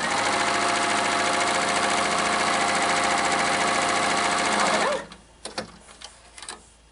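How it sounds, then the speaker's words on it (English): A sewing machine stitches the edges of a quilt block in a steady, loud, fast mechanical whir for about five seconds. It then stops, leaving a few faint clicks and taps of the machine being adjusted. "I'm going to take my first few stitches and lift up my presser foot"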